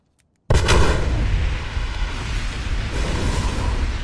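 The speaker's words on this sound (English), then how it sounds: "when Joker blows up the hospital in Dark Knight." A large, booming explosion as the hospital is blown up in The Dark Knight, starting abruptly after a moment of near silence and continuing as a loud, sustained rumbling roar without speech.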